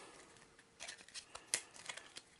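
A deck of board game cards for Arkham Horror gets a quick shuffle and a cut, heard as soft, brief riffling and snapping ticks, close and quiet.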